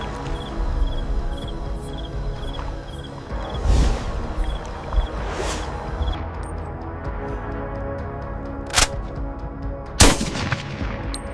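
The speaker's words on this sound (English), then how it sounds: "The rifle cracks, shattering the silence of the swamp." Sharp rifle gunshots crack out a few times at uneven intervals in a swamp, the last one loudest, over a steady buzzing background like insects.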